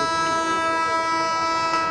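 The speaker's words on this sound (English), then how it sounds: "The sound of an approaching train is heard from a distance." The Accra–Tema train service pulls into a rail station, its horn and engine drone holding a rich, steady tone throughout, loud and close, with no voices.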